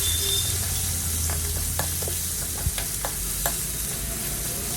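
A broad bean curry is stirred in a hot pan, a steady bright sizzle carrying a series of light spoon scrapes and taps against the pan, close and fairly loud, with no talking.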